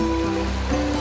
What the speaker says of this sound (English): Its rippling waters refresh the soul.